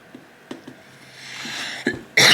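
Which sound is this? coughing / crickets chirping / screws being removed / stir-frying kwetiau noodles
coughing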